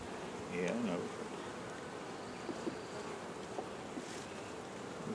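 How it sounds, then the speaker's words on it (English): Honeybees buzzing around an open five-frame hive in South Carolina, a soft, steady hum close by with faint handling noises and light rustles, no talk. "Got bees."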